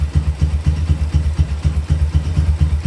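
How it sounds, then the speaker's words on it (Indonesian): Carburetted Honda Tiger motorcycle engine idling steadily after carburetor tuning, a close, loud low-pitched chug with an even pulsing rhythm and no talk. "penyetingan karbu paling kecil bisa di RPM berapa ini"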